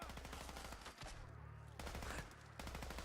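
A Jag X200 LMG light machine gun in Fallout 4 fires in sustained, rapid automatic bursts, loud and dense, with a brief break between strings of shots.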